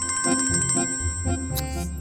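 A phone ringtone plays in a repeating electronic melody with steady tonal pulses, loud and close, with no talking over it.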